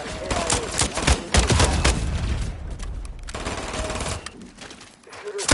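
Loud, dense automatic gunfire from the Call of Duty Modern Warfare video game crackles in rapid continuous bursts, with several weapons overlapping before easing off briefly near the end.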